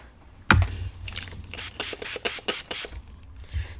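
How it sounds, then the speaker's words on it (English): A dirty stencil gets a quick spritz, one sharp burst of spray, followed by several rhythmic rubbing strokes as it is wiped, close and fairly quiet. "Now the stencil is just getting a little bit dirty, so I'm just going to quickly give that a spritz and we will wipe that off."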